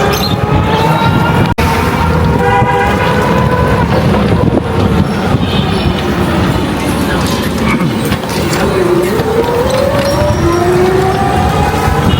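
A metro train in Dhaka gives a continuous loud, close rumble of wheels and motor, with rising whines in places, while people talk over it.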